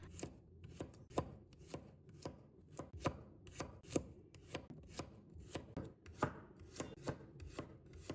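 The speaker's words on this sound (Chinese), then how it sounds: "再准备1把大蒜，切成薄片。" Knife slicing garlic cloves into thin slices on a cutting board, about a dozen crisp, evenly paced chops close up with no talking.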